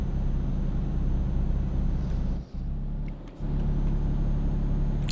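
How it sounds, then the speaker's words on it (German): A truck engine in Euro Truck Simulator 2 drones steadily as it climbs uphill, a loud, constant low rumble, briefly dipping twice in the middle as if shifting gears before resuming. "jetzt brummt der LKW aber auch ordentlich. Bergauf, du, da muss der LKW richtig arbeiten"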